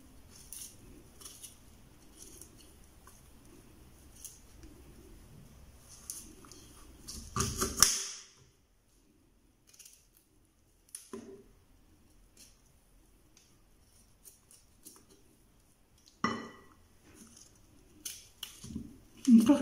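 Broccoli florets being cut into small pieces, with scattered soft snips and clicks separated by quiet gaps, faint and close, and several sharper handling noises in between.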